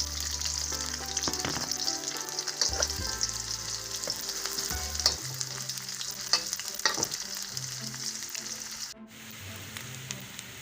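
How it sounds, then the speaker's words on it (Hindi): Oil sizzling and spitting steadily in a hot pan as garlic ginger paste is added, with a spoon scraping and stirring through it; loud and close, briefly dipping near the end. "ये लहसुन अदरक की पेस्ट डालती हूँ।"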